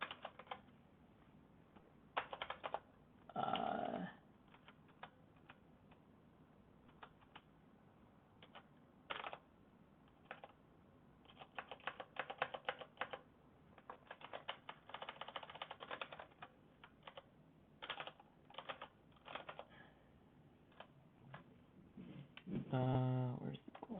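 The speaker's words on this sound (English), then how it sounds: "I'm using this Ergo keyboard, and I haven't used it in a really long time, and I'm typing terribly." Typing on an Ergo computer keyboard, with irregular bursts of key clatter spread across the stretch, some dense runs and brief pauses, heard up close and fairly quiet.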